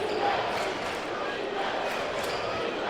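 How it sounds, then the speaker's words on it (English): Basketball arena crowd at a 1976 Kansas City versus Chicago playoff game, a dense continuous roar of many voices with rhythmic swells suggesting a repeated defense chant, steady and loud throughout. "Crowd chanting defense, as you can hear."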